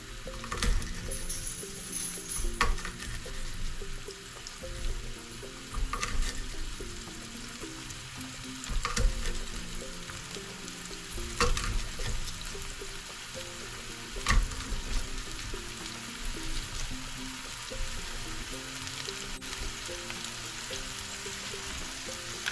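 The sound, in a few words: hot peppers sautéing in pan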